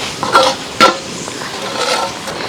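Country chicken curry simmering with added water in a clay pot, with close scraping and stirring strokes over a soft, steady sizzle, two sharper clatters standing out near the start.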